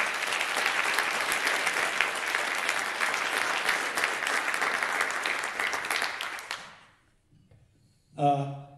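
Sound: audience round of applause at concert

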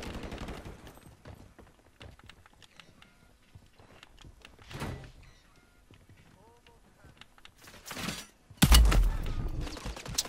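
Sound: gunfire in the video game Warzone

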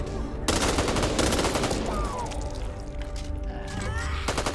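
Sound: gunfire in a video game

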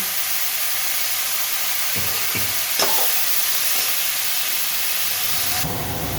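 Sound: spinach frying in oil

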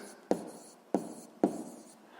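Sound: writing the answer to a math exercise

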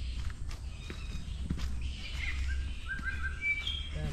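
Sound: birds calling in forest

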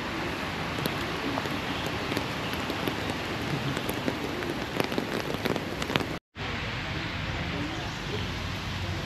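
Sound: rain falling

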